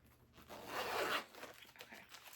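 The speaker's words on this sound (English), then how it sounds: "Zipper don't want to work, guys." A clothing-style zipper is pulled in one quick, fairly faint rasping stroke lasting under a second, followed by light handling noises in a quiet room.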